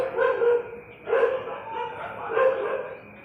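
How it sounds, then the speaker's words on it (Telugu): Dogs bark in three loud bursts about a second apart, nearby, with no talking. "కుక్కలు అరుస్తున్నాయి ఏందోనే"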